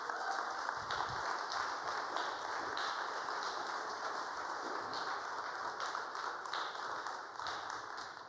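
A crowd at a meeting keeps up continuous applause, a thick even wash of many hands clapping that holds steady throughout and tapers a little at the close.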